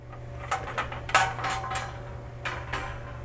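A metal brownie baking pan is set onto its cooling rack, giving a few close metallic clanks and scrapes, one sharper knock in the middle, with no talk over it.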